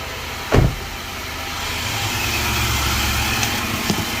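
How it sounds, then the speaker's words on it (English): A 2012 Infiniti QX56 idles smoothly after a starter replacement: a short burst as the engine catches, then a steady, even low hum with a few faint clicks. "Engine is nice and smooth, like it's supposed to be"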